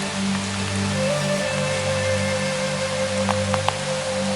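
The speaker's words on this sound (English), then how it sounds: "This rain's supposed to clear." Rain falls steadily in the New Forest, a dense, even patter on leaves and surfaces with a low background rumble and a few sharper drips near the end, no voices.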